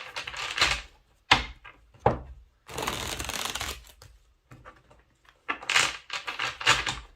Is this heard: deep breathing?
no